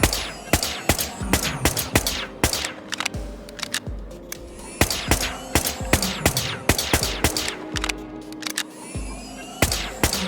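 Rapid, loud bursts of gunfire in the video game Whispers of a Machine, sharp repeated shots crackling in uneven volleys throughout with little pause.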